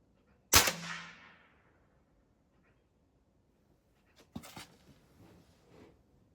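A Crosman 3622 .22 PCP air rifle fires a pellet with one sharp, close crack, followed later by a quieter cluster of clicks and handling noises.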